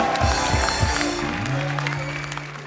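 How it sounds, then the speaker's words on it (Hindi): Studio audience applause on a Hindi TV comedy talk show set, a steady broadband clatter of clapping with low musical tones underneath, fairly loud throughout. "काजल जी के लिए जोरदार तालियां"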